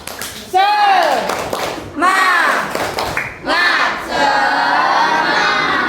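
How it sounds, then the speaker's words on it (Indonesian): A classroom group of teachers in a joyful math training session performs the 'tepuk semangat' spirit clap, three bursts of rhythmic clapping with chanted voices, loud and close, each burst separated by short pauses. "tepuk semangat"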